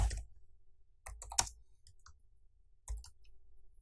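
Sparse keystrokes on a computer keyboard while typing a Helm command, a few close clicks in small clusters separated by quiet pauses.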